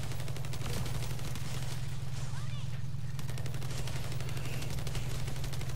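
Video game gunfire as players shoot balls, a steady rapid crackle of shots running throughout over a constant low hum.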